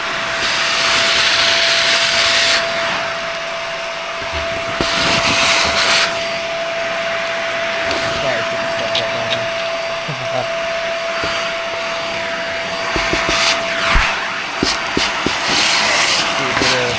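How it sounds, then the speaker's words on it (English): A repaired vacuum cleaner running during a floor test, a loud steady whine with a constant tone, broken by scraping and rubbing bursts as the head moves across the floor. "Vacuum test, do a little floor test."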